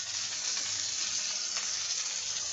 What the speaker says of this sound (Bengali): এই দেখো, একটু ভেজে নিব।